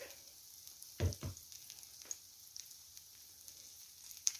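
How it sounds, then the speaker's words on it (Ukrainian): Small cherry pancakes frying in a pan: a quiet, steady sizzle with a few soft clicks and scraping taps, no voices. "Я вже досмажую оладки."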